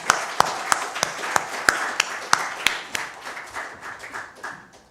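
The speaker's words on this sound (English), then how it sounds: "I would request the audience to join me in applauding the" An audience at an international G20 conference applauds the panelists after a session: crisp, closely spaced hand claps that start sharp and fairly loud, then thin out and soften over several seconds.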